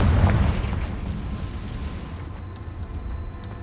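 A Confringo fire spell explodes in the Hogwarts Legacy video game, a single loud, deep boom that rumbles and fades out over a few seconds.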